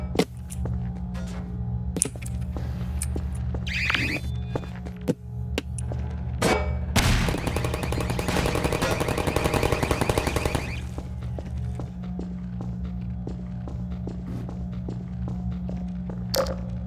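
An automated turret in Half-Life fires a sustained burst of rapid, loud mechanical gunfire lasting several seconds, preceded by scattered single shots and clanks, then falling back to a low ambient hum.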